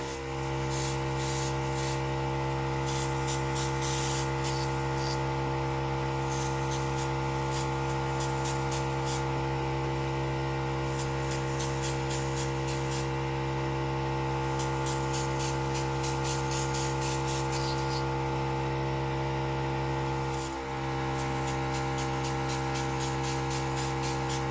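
Airbrush compressor humming steadily while spraying contour makeup, a constant close drone under soft repeated bursts of airy hiss, unbroken throughout with no talking.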